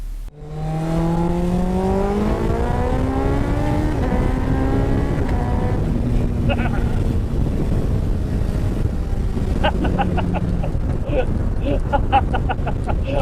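A motorcycle-engined Cup 200 sports car revs up through rising gears, then settles into a cruising drone with wind rush on the road, loud and close from inside the cabin.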